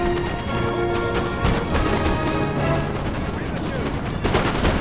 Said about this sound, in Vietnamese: Đấu súng quân Pháp không dễ dàng chút nào.